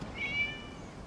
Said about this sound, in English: It was just a cat.